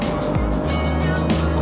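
A Kia Stinger driven hard on a race track, its engine roaring steadily at high revs with a brief pitch drop like a gear change, loud and close throughout.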